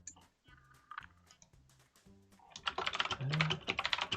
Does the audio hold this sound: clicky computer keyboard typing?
yes